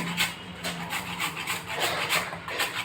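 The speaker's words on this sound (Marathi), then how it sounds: "गाजर किसून घेते मी चांगले आणि सगळं किसून घेऊ आपण हे" Carrots scraped by hand against a grater for a soy, beet and carrot cutlet, a steady run of quick rasping strokes, close and fairly loud, with no talking.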